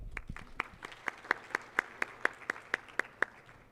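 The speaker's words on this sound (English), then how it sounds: "Applause for everyone." A single person's slow, evenly spaced claps, about a dozen sharp hand claps at a Future of Work panel event, fairly close and quiet against a faint room background.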